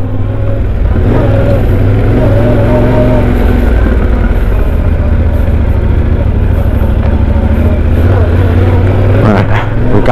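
Yamaha Tenere 700 adventure motorcycle ridden on a test track, its engine droning loud and steady throughout with a dense low rumble and slight rises in revs near the end.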